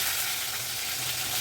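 Onion and tomato fry in a pan for a fish curry, giving a steady, close sizzle with broadband crackle throughout and no talking.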